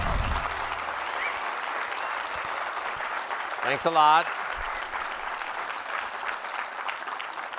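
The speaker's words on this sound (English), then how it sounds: "I'm going to play that applause to myself over and over again" A seminar audience applauds, a steady wash of clapping from a large room running throughout, with a brief voice speaking partway through.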